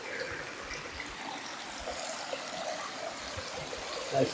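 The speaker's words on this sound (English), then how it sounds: "I can stand on the edge of a waterfall at the moment." Waterfall water spilling over a rocky edge in a national park, a steady close rushing wash that holds even throughout, with no voices.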